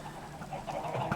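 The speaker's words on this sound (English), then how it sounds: "so you can have 32 adult chickens, and then they start dying and dropping chicken out" Chickens in a Minecraft chicken farm cluck softly in a short, faint burst of overlapping blocky game-animal sounds, with a low steady background.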